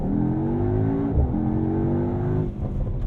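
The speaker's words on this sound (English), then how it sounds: "In race mode, to do launch control, just hold your foot on the brake, pin the throttle, race start is ready, let it go." A Mercedes-AMG GT63 S launches hard under launch control, its engine roaring loud and close from inside the cabin, pitch climbing through a gear change around the one-second mark and into another shift near the end.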